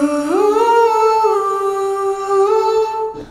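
A sustained, melodic synthesized tone loop from a stock sound library, smooth gliding pitches with rich overtones that swell in and hold steadily before cutting off near the end, heard alone with no voices.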